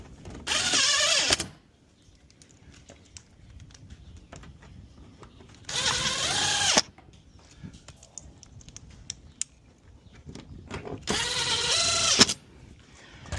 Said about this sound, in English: put your screws back in place